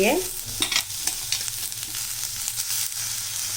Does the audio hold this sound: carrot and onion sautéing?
yes